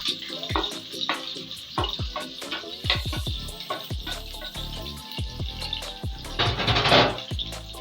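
Chopped onion dropped into hot oil for native jollof concoction rice, sizzling and crackling steadily with scraping stirs and clinks of a utensil against the pot, the frying swelling louder toward the end.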